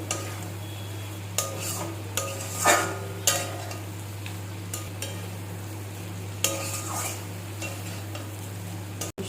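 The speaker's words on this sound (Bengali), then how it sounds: "মশলার সাথে পনিরগুলো ভালো করে মিশিয়ে নেবো" Paneer being stirred into a spiced masala in a pan for Kashmiri lal paneer made without onion or garlic: intermittent spoon scrapes and clatters against the pan over a steady low hum, with no talking.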